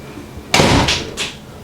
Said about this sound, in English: Who's slamming doors in this house?